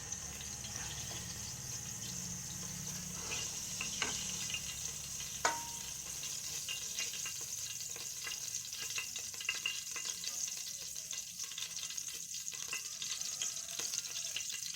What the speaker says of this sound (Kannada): ಸಾಸಿವೆ ಸಿಡಿದ ಮೇಲೆ ಈರುಳ್ಳಿ ಬೆಳ್ಳುಳ್ಳಿ ಹಾಕೋದು